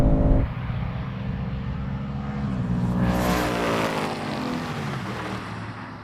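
A Ford Mustang launching off the line at a drag race, a loud, steady engine roar that swells and holds as the car pulls away, heard from nearby with no talk.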